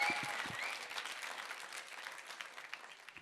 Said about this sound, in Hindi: मैं तो देख रही थी कि तालियां रुकेंगी